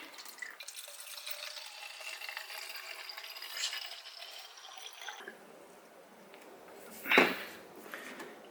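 Liquid pours into a 1-liter Pro foam cannon bottle with a steady trickling wash for several seconds, then stops, followed by a single sharp knock or clunk near the end.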